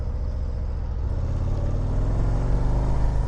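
Harley-Davidson CVO ST motorcycle engine rumbling under way, a deep, loud, continuous throbbing drone with a low pulsing beat, close and steady throughout.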